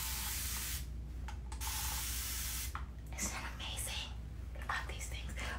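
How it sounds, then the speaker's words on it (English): A spray bottle misting hair during a wash-and-go routine, several loud hissing bursts of fine spray close by, separated by short pauses, with soft whispery speech between. "So this is an amazing, amazing spray bottle."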